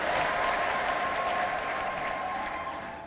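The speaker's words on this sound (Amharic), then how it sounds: "አጨብጭቡና ተቀመጡ ኢየሱስ ይባርካችሁ" A church congregation applauding during a service, with steady, dense clapping that fills the whole stretch and tapers slightly toward the end.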